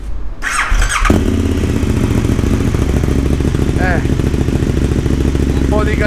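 A KTM 1290 Super Duke R motorcycle engine with its catalytic converter removed kicks into life with a brief squeal, then settles into a loud, steady idle with rough revving throughout.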